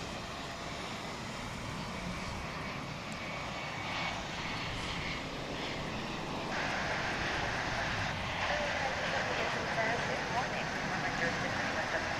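A jet airliner passes near DFW International Airport, crossing Highway 114, its engines a steady broadband roar that swells louder partway through, with background talk mixed in.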